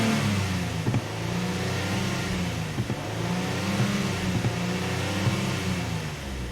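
A Lincoln MKT engine, under diagnosis for lean codes P0171 and P0174 on both banks, runs with a loud, steady drone that swells slightly as the throttle is snapped. There is no talking.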